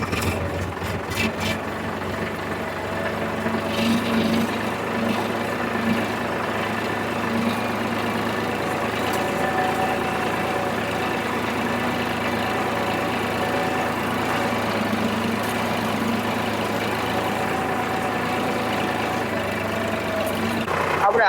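A tractor used for levelling farmland idles with a steady low engine rumble, loud and close for the whole stretch, while someone talks over it.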